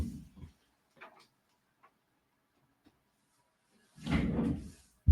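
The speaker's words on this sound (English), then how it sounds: "I'm going to shut the door." Indoor door being shut: a few faint clicks and knocks in a quiet room, then a louder rustling scrape and a sharp thud at the end.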